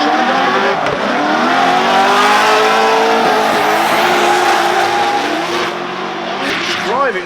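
Corvette C6 drift car sliding around a track at a pro drifting competition, engine roaring loud and steady with rising and falling revs and tire squeal throughout, a commentator's voice over it.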